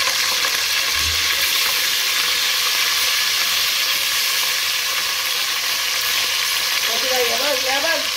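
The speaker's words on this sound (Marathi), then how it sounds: "हा राई जिरा पण टाकायचं।" Mustard seeds and cumin frying in hot oil with curry leaves in a kadhai, giving a loud, steady broadband sizzle throughout, with a brief low thump near the start and faint voices toward the end.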